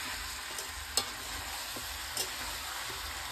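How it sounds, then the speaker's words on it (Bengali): Meat kosha-fried in a pan gives a steady hiss of sizzling, with a few soft scrapes and knocks as it is stirred, close by and with no voices over it. "মাংসটা কষা হচ্ছে গো"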